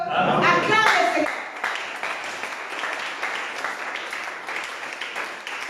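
Congregation applauding inside a church, a dense steady wash of clapping that follows a brief burst of voices and carries on throughout at moderate loudness.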